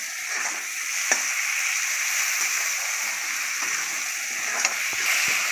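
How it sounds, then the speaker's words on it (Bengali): Chili-garlic paste frying in a pan for a spicy ridge gourd curry, a steady close hiss of sizzling oil with occasional sharp scrapes of a spoon stirring, no talking. "এই যে লঙ্কা রসুন বেটে রেখেছিল সেটা দিয়ে দিচ্ছে, দিয়ে নাড়িয়ে নিচ্ছে।"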